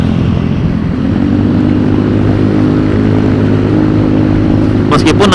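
A standard Yamaha Mio M3 motorcycle engine revving high in a steady, loud drone, with a brief sharp burst of noise near the end.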